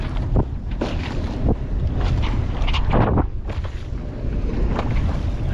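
Steady wind buffets the microphone out on a wavy ocean near a boat, a continuous low rush with gusty swells and brief louder bursts, with no talking.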